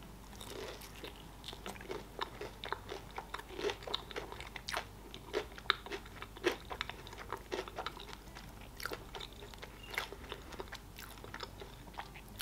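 Close, crisp crunching and chewing of battered KFC (Rostic's) chicken wings, irregular bites repeating steadily over a faint background hum with no talking.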